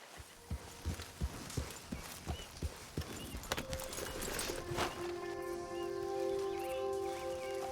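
Horse hooves in the video game Red Dead Redemption 2 clip-clop in a steady walking rhythm, close and distinct, before fading under a rising tonal hum toward the end.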